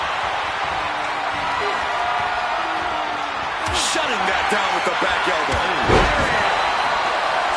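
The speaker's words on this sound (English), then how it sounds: "This capacity crowd is beside themselves tonight" A capacity crowd at a wrestling tournament roars continuously, a loud steady wall of cheering with a heavy slam partway through, while a commentator talks over it.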